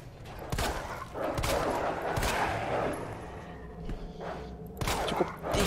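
Several sharp gunshots crack out in irregular bursts over a low rumbling background in the video game Resident Evil 2 Remake, loud and close, with quieter movement between them.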